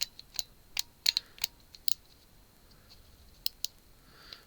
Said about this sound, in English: You can hear the switches clicking as you move it.